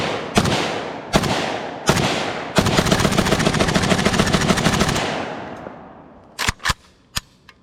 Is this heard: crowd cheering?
no